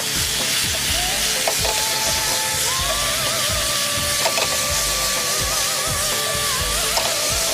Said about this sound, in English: We'll wok toss that.